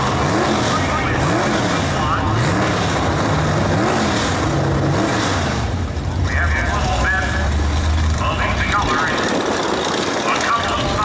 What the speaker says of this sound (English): Both gentlemen will be warming up their tires with some burnouts here before they get up to the line.